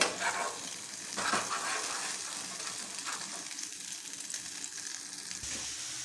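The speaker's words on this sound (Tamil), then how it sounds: "பேஸ்ட்டை வந்து அப்படி எண்ணெயிலே சேர்த்து வதக்கி விட்டுக்க போகிறோம்" Ground masala paste sautés in oil for an Andhra-style dish, a quiet, even frying hiss with a few faint stirring scrapes near the start.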